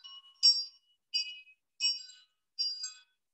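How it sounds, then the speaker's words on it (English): Small silver wind chimes made from a sugar dish tinkle in four short, bright, delicate bursts separated by brief silences, faint and close, with no voices. "This is one of our sugar dish silver wind chimes."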